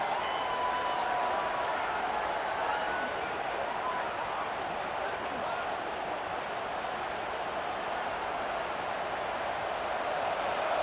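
The home crowd in the video game College Football 26 roars steadily during a third-down defensive stand, a dense, unbroken wall of noise at a moderate, even level throughout.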